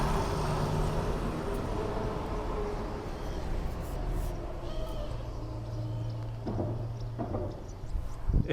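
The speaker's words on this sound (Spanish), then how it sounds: "desde Toscana ahora va a pasar un coche" A single car approaches and rolls past on a quiet road in Tuscany, a soft swelling rumble and tyre hiss building toward the end against low steady background noise, no voices.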